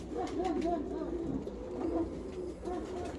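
Bursa tumbler pigeons with white wings and white tails coo in low, throaty repeated phrases nearby, under someone talking.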